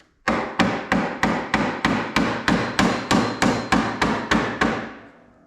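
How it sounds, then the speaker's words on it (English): Steady hammer blows pounding a nut threaded onto a tight John Deere STX 38 steering part, about fourteen sharp metallic strikes in a regular rhythm, close and loud, with a short ring after each hit. "First I'll try pounding it."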